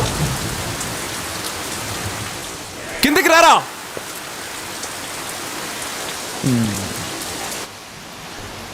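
Steady rain pours down in a constant hiss throughout, with short bursts of people talking over it.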